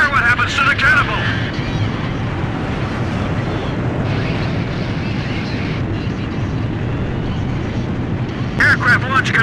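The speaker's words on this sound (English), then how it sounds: "Aircraft launch confirmed." Carrier catapult launch of a jet in the Ace Combat 5 video game: a loud, sustained roar of engine and rushing air fills the whole clip, with brief higher whooshes near the start and end.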